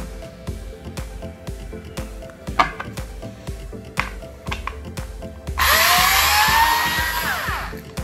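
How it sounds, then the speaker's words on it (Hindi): A Bosch Go 3.6V cordless electric screwdriver backs out a screw, with sparse clicks and taps first, then a loud, close motor whine lasting a couple of seconds that eases off at the end. "देखो कितनी आसानी से स्क्रू निकल रहा है।"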